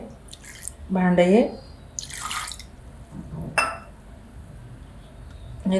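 Milk splashes briefly into a pot with a few drips and light clinks, while someone speaks a few words, while making mango kulfi.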